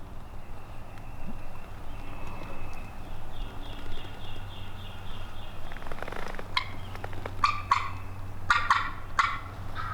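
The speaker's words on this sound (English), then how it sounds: "I just hear a hen with him." Wild turkey hen and gobbler calling outdoors in Georgia during a spring hunt, with clucks and yelps from the hen and a gobbler sounding off, moderately distant, against a steady low rumble.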